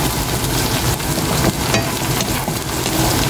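Peanuts frying and being stirred in a pan for adobong mani, with a steady dense sizzle and scattered crackles throughout, close and fairly loud, no voices.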